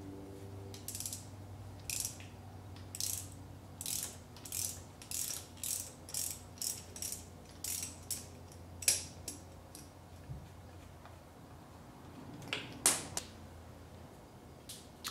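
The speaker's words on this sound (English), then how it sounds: "And all we needed was just a 1/4-inch wrench." A 1/4-inch ratcheting wrench loosening the oil pressure sending unit bolt on a Pontiac Fiero with a 3.4 engine, giving steady rhythmic ratchet clicks in a regular series, close and clear, no talking.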